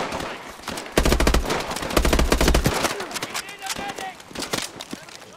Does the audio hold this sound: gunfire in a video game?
yes